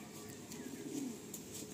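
A Madrasi pigeon coos softly in a loft, a low steady murmur of cooing with faint chatter and background noise around it.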